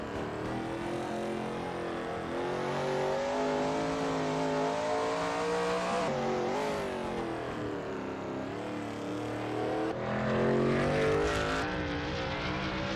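Shelby Mustang GT350R in a racing video game at Goodwood Circuit, its engine roaring steadily and loudly throughout, with pitch swells and shifts as it accelerates and changes gear.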